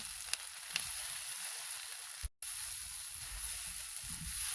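Tomato paste and sauce sizzle and fry in a pan while being pushed around, a steady soft crackling hiss with a couple of faint scrapes and a brief dropout midway, no talking.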